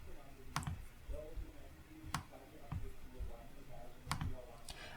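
A few sharp computer mouse clicks, spaced out at irregular intervals, faint and close under low background murmur and some speech.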